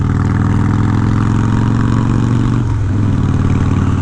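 About 20 years old, a Harley-Davidson Night Train motorcycle with an 88 twin cam V-twin and nearly new exhaust idles close by in a steady, loud, low rumbling lope, with a slight dip in the beat partway through.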